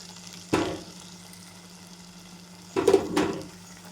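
Ivy gourd (tindora) hits a pan of hot frying masala in two sizzling bursts. The first is short, and the second, a few seconds later, lasts longer with stirring. Between them a soft steady frying hiss continues.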